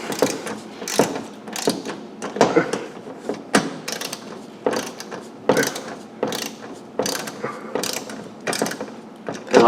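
A ratchet tightens skid plate bolts on a C5 Corvette, giving bursts of quick clicking and clattering metal strokes with short pauses between them, close up throughout.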